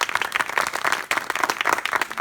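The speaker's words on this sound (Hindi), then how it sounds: "तो अगर आप लोग सहमत हो तो जोरदार ताली मारे" Loud, steady applause from a crowd of villagers at a natural farming awareness meeting in Azamgarh, continuous dense clapping close by with a brief dip midway.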